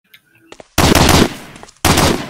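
Loud automatic gunfire in the World War II shooter Medal of Honor: Allied Assault, with two long sustained bursts close by, preceded by faint, quieter shots.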